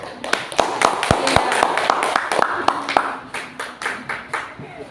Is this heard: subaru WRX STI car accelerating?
no